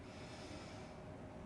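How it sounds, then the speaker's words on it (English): A deep breath is drawn in through the nose during a yoga flow, a short airy snort-like inhale heard close and alone for about a second and a half. "Deep breath in."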